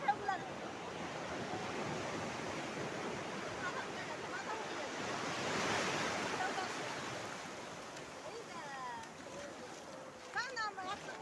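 Sea waves break and wash continuously on the shore, a broad steady roar that swells in the middle and eases toward the end, with faint higher chirps near the close.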